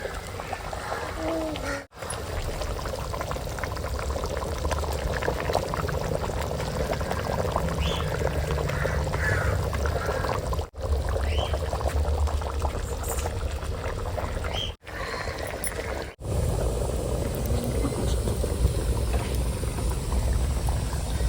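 Fish going into a simmering Tamil-style fish curry, with a continuous bubbling, pouring and splashing texture throughout, close up and steady, broken by a few short pauses.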